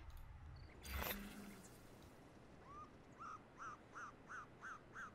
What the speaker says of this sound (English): Sort of like seagulls and whatnot.